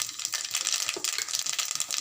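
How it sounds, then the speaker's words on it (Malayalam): Mustard seeds crackle and pop in hot oil, tempered for a coconut chammanthi chutney paste: a dense, continuous sizzle of tiny close-up pops with no voices. "അപ്പോൾ കടുക് ഇങ്ങനെ പൊട്ടിക്കൊണ്ടിരിക്കുകയാണ്"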